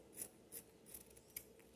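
Scissors snip ribbon for a bow in a few short, quiet cuts spaced across a couple of seconds, with no talking.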